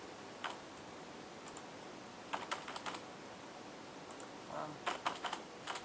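Quiet keystrokes on a computer keyboard come in short bursts and single taps over a steady hiss of background noise.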